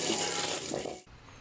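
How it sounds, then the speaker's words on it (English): Water pours from a faucet over an Anker Soundcore Flare 2 Bluetooth speaker, a steady loud rushing splash that cuts off sharply near the end, leaving a faint hiss. "I also tested the speaker's waterproofness by running it under the faucet and fully submerging it while playing music."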